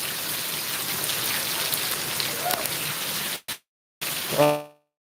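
Heavy rain falls in Gujarat as a steady, loud hiss, then breaks off abruptly, and a short horn-like tone sounds near the end.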